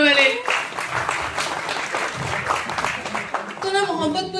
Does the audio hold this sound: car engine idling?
no